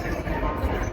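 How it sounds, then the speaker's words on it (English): Rolling train noise inside a railway station in Córdoba, Spain: a dense, continuous rumble and rattle with no pauses, fairly close and steady throughout. "this is from a train station in Spain, specifically Cordova."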